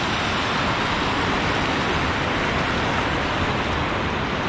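A waterfall and small river in the São Jorge river canyon produce a steady, dense rushing roar that is close and loud, constant from start to finish with no voices.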